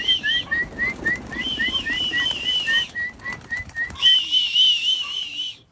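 Pigeons at a loft coo and a sharp repeated whistle calls them in, the notes in quick steady series with short gaps, loud and near, and no one speaks.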